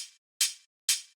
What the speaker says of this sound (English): It's just kind of like a nice hi-hat